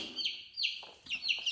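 Young chickens clucking and peeping close by, a handful of short high-pitched calls in quick succession with no voices.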